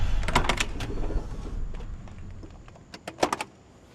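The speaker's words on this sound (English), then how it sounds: "Doors open like a new car, which is so wild." The door of a restored 1972 Ford Bronco Heritage Edition opens, with a few quiet, close mechanical clicks and latch taps, a soft rustle, and a brief cluster of sharper clicks near the end.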